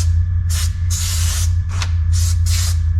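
Expanding foam sprayed into gaps in a van floor, delivered in several short hissing bursts of varying length over a constant low hum, close and loud.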